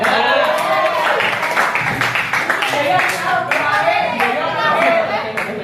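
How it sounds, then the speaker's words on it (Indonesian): A group of students in a classroom claps steadily in rhythm alongside lively singing voices, the claps close and continuous over the whole stretch. "Jadi kalau teman-teman nyanyi, teman-teman semua bantu tepuk-tepuk."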